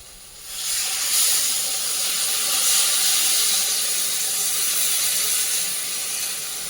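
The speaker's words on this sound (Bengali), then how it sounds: "এবার জল ঢেলে দেবো।" Water poured into a hot pan of koi fish curry hisses loudly and steadily, a sharp steam-like rush that swells after the start and holds for several seconds before easing slightly.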